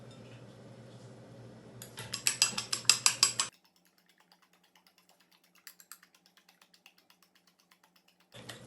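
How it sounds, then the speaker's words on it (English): Eggs beaten in a bowl while making Guyanese-style salmon patties produce a quick burst of rapid clinking whisk strokes after a soft murmur, followed by scattered faint taps and a final clatter. "Then we'll beat the eggs up."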